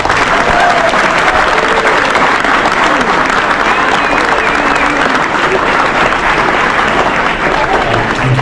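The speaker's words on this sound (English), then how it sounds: "Let's give them a round of applause," Loud, sustained applause from a crowd at a US Army celebration gathering, dense clapping filling the room with faint voices and cheers mixed underneath.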